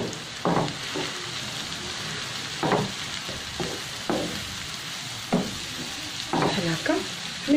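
Sliced onion and thinly cut leek fry in a pan with a constant soft sizzle, broken by several crisp scraping strokes of a spoon stirring through them.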